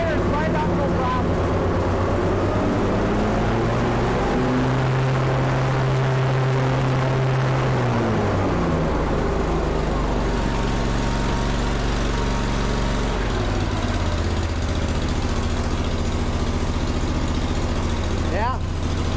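Kohler CH25S twin-cylinder engine on a Grasshopper zero-turn mower running steadily and loud up close, its drone shifting pitch as the throttle is eased back.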